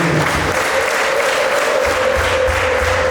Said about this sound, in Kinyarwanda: duhe Imana amashyi cyane n'impundu